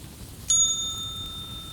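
One bright ding from a small reception desk bell, struck once and left ringing with a clear sustained tone over a quiet hotel reception area.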